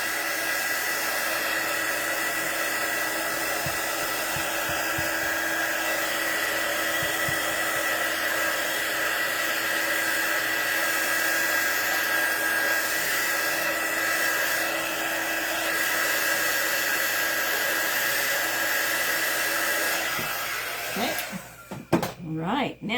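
A heat tool blows continuously to dry ink painted on fabric, a loud steady airy roar lasting about twenty seconds before cutting off amid a few handling clunks.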